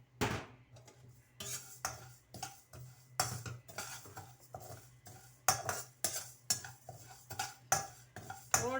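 A utensil stirs and scrapes rice around a pan, giving a series of irregular clinks and scrapes of moderate level with short pauses between strokes, heard alone without talk.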